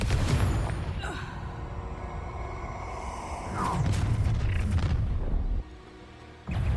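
Bombarda and Confringo spell explosions in the Hogwarts Legacy video game: heavy, booming blasts and rumbling bursts follow one after another, loud and dense, with a short drop-off near the end before another hit.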